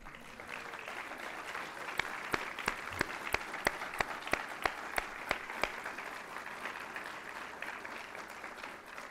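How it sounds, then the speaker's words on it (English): Applause at a NASA agency honor awards ceremony for the families of honorees, a steady mid-level wash of clapping from a seated audience with sharper individual claps popping out, sustained throughout. "We'd like to give you guys a round of applause"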